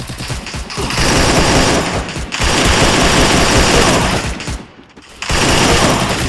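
Sustained bursts of rapid automatic gunfire in the video game Garena Free Fire, loud and dense, with two brief pauses between long volleys.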